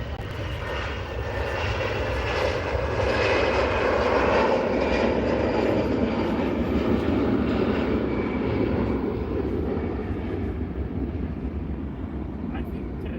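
An EasyJet jet airliner departing Manchester Airport, a loud, steady engine roar that swells and slowly recedes, heard from outside with a little wind noise on the microphone.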